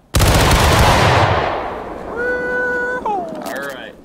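A drilled company fires a musket volley in the Civil War game War of Rights: one loud, sudden crash of many shots that rolls away into a long fading echo, followed by a few tonal calls.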